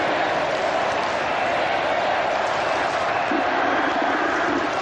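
A full house of about 40,000 at Eden Park during a cricket World Cup match between Pakistan and New Zealand, a dense, continuous roar of murmuring and cheering filling the whole stretch.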